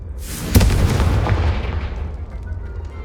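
A Confringo fire spell in Hogwarts Legacy bursts with a single loud, close boom that rolls into a rumbling tail and slowly fades over a few seconds.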